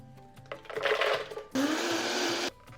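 A blender whirs as it purees cashews with veggie broth into a vegan cashew cream for soup, running in two loud bursts with a brief pause between them, no talking.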